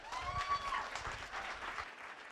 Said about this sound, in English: give her a nice round of applause and welcome her to the stage